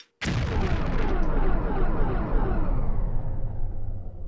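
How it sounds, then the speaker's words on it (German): A single loud, booming explosion in the video game Tomb Raider 3 bursts in abruptly, then a long rumbling roar slowly decays over several seconds. "Er ist explodiert!"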